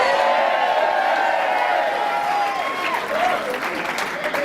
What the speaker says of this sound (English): this is a very, very enthusiastic crowd